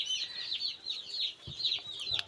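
Broiler chicks in a small group of about thirty-two cheep continuously with high, rapid peeps close by, with a few soft knocks of bowls underneath and no talking.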